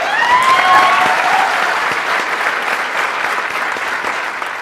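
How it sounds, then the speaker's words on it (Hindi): Live audience at a stage mind-reading magic show bursts into loud, sustained clapping that fills the room, steady throughout with a few brief whistles at the start. "जोरदार तालियां दो रश्मि को यार"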